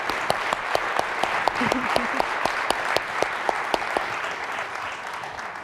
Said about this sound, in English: How about one more round of applause for all 3 initiatives?